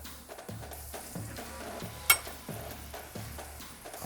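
Beef frying in a pan with a tablespoon of butter, salt and pepper, a low steady sizzle broken by regular scraping and stirring strokes about every half second, with one sharp clink partway through.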